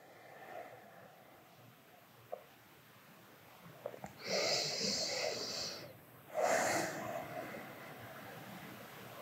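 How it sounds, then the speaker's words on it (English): A deep, purposeful exhale through the nose or lips during a postnatal yoga nidra class, heard as two soft, drawn-out breaths of about two seconds each over quiet room tone. "exhaling completely."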